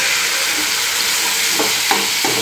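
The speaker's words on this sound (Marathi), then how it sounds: "ह्यात मी फ्लावर आणि बटाटा टाकते आता" Cauliflower florets and potato pieces sizzle steadily in a hot pan, a continuous hiss with a few soft stirring scrapes near the end.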